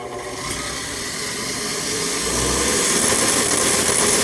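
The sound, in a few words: belt grinder rig with blower running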